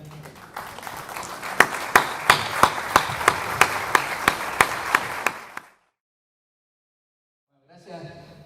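Applause from an audience at a memory, truth and justice conference, broad clapping with a rhythmic run of loud, evenly spaced claps, ending abruptly in silence before a voice begins.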